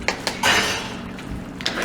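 A utensil clanks and scrapes against a pan in a few quick strokes while shrimp sauce is mixed, close and brief with no talk.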